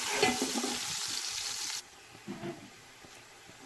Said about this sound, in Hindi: प्याज को थोड़ा हम अच्छे तरीके से फ्राई करेंगे